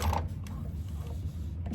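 A sewing machine back-stitching over a stiff, heavy pocket on a candy bag: short, close mechanical whirring with creaking bursts and a few faint needle knocks.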